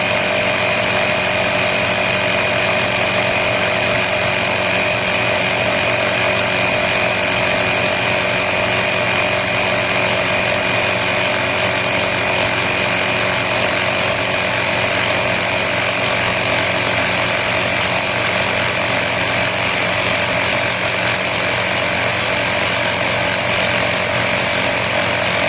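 An Air Hawk Pro portable air compressor runs continuously at a loud, even pitch, a steady mechanical drone with a constant tonal whine that holds unchanged throughout.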